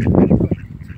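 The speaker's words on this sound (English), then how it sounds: "And we've got ducks." A short burst of several rapid duck quacks, close and fairly loud, fading into quieter background.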